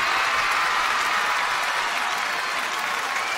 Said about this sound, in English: All those people are clapping for me!